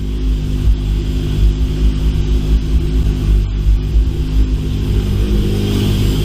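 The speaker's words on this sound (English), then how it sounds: "this is a base map on 272 cams and it idles that well" A Toyota Supra engine on 272 cams idles on a base map while a little cold, giving a loud, close, steady low rumble with a slightly lumpy, pulsing rhythm and no talk.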